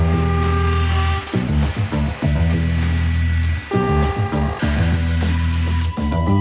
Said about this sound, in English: So I've drilled my holes.